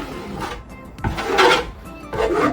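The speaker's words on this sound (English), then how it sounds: "give it a last little scrape there for any high spots." A trowel scrapes high spots off a freshly coated DIY custom shower niche, several close rasping strokes in a row, rough and gritty, with short pauses between passes.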